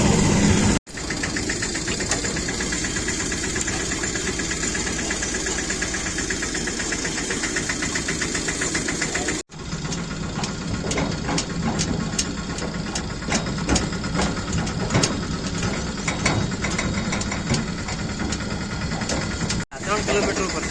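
A tractor engine runs loudly and steadily on a national highway, with a rough, knocking chug that continues through brief cutouts.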